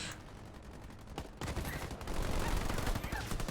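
Ground troops trade gunfire in the Halo Wars 2 video game. Bursts of rapid automatic shots rattle on and off, then swell into a loud, continuous barrage.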